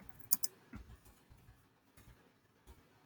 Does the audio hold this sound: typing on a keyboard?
yes